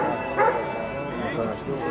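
Dogs yip and bark in short bursts at an indoor dog show in Bulgaria, mixed into a busy hall with constant overlapping chatter and announcements.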